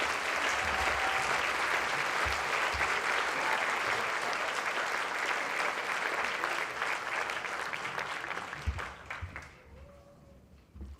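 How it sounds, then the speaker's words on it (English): A Boys and Girls Club Youth of the Year audience gives sustained, dense applause that holds steady for about nine seconds before thinning out, with faint voices underneath as it ends. "Can we give her one more round of applause, please?"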